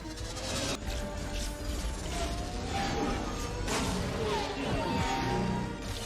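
Dense, loud mechanical sci-fi gunship effects in Star Wars prequel style, with whirring, clanking and rising whines, layered into a continuous roar of heavy machinery.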